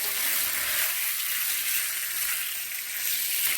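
Shrimp sizzle steadily in a hot pan for a lo mein stir-fry, a dense, even hiss of frying that carries on close and unbroken with no talking over it.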